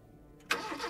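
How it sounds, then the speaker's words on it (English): A car engine turns over and catches abruptly after a brief quiet moment, settling into a close, steady running rumble, part of a spooky spoken story scene. "The keys stuttered into the ignition, and the car putted to life."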